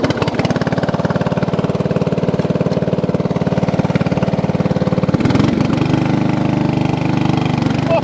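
An old lawn tractor engine running again after sitting for many years, a loud, steady, rapidly chugging mid-pitched drone that shifts slightly in tone partway through.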